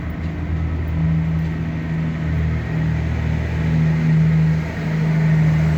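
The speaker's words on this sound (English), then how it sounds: "There's multiple trucks in here." Trucks drive through the Subtropolis underground facility, their engines a continuous low rumble that swells and eases as they move, loud and steady with no talking.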